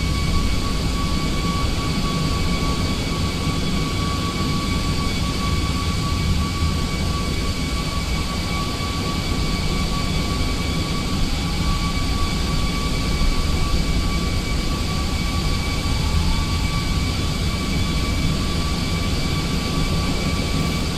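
Boeing 737 MAX jet departing from Honolulu in Microsoft Flight Simulator 2020, a steady loud engine roar with whining tones holding evenly throughout, no talk.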